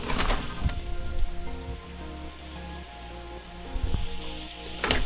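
Heavy rain pours down outside during a wet summer, a steady hissing wash under a low indoor hum, with a few sharp knocks.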